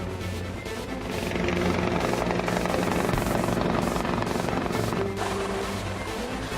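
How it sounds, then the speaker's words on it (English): A rescue helicopter's rotor thumps steadily and loudly as it arrives in Japan, growing closer and swelling in volume before holding at a constant roar. "The helicopter arrives."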